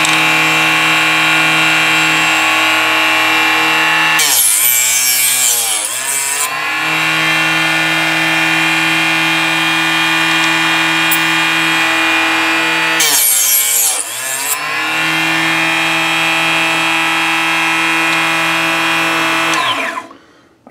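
A Harbor Freight Drillmaster 2-inch cutoff saw whines steadily at close range, dipping twice into harsh grinding bursts as it trims 300 Blackout brass cases, then spins down at the end.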